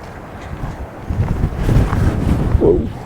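Wind gusts outside an old building with an added-on lean-to, a rough buffeting rumble against the microphone that swells and stays strong, close and loud, with no talk.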